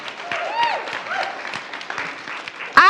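Women in a spiritual gathering applaud themselves, a steady wash of clapping from an audience with voices and cheers mixed through, a sharper burst of sound near the end.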